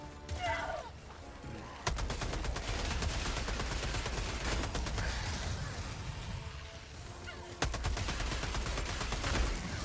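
Helldivers 2 combat with steady automatic gunfire in long rapid bursts. Distinct sharp onsets mark new volleys, and the fire crackles continuously at moderate loudness over a busy, noisy background.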